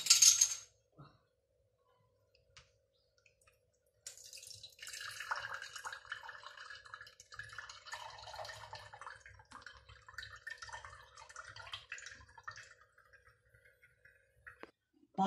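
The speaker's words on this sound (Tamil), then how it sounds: "அதை அப்படியே எடுத்து நாம் இப்போ வடிகட்ட போகிறோம்" A milk drink poured through a strainer, heard as a soft, faint trickle of liquid with small drips and clinks that runs steadily for about ten seconds after a brief initial noise, close and quiet.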